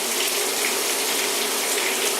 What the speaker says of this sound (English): I switch the sprayer to rinse